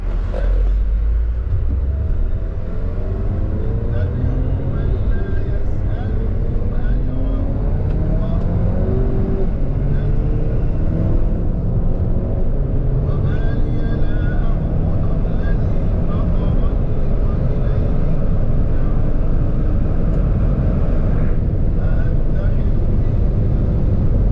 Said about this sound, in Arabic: اخر فيديو هوريهولك هيبقى فيديو العربية دايسة فترة طويلة وفي درجة حرارة قليلة